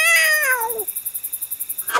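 A person mimics a cat's meow in one drawn-out, falling call, loud and close, followed by a soft pulsing rattle.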